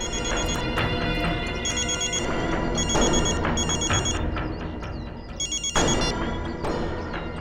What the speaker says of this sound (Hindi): इसी एरिया में कहीं पर फोन की घंटी सुनाई पड़ रही है।